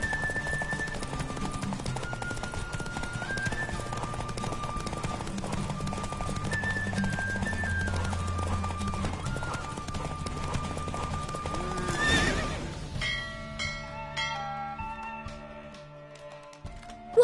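Steady rhythmic hoofbeats of a galloping horse in a race in The Witcher 3: Wild Hunt run continuously under music, then fade as the music shifts to a quieter passage.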